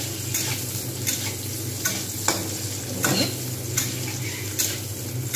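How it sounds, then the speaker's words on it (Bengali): Onions fry in a pan for a Bengali rui fish curry with radish, giving a steady close sizzle with faint stirring scrapes that recur through the clip. No voice is heard. "ভালো করে পেঁয়াজগুলো ভেজে নেব, সফট হয়ে যাবে।"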